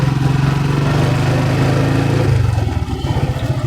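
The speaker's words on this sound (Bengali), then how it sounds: "দেখেন এখন আমি বাইকটাকে থামাই ফেললাম" Motorcycle being ridden and brought to a stop, a steady close engine drone with a low rumbling note that shifts down near the end as the bike slows.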